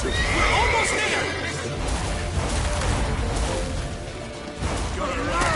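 Horses whinny and neigh loudly in The Witcher 3 game amid a chaotic chase, with hooves clopping and a dense wash of action noise throughout.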